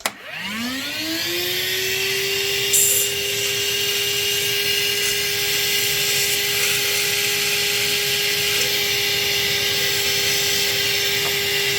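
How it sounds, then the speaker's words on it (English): A shop vac running steadily, sucking debris out through a thin 1/4-inch hose; after a quick spin-up it holds a loud, even whine with a high airy hiss, close and continuous with no talk. "the way to do that is a shop vac with a piece of 1/4-inch hose. Shove it in there and suck all the debris out"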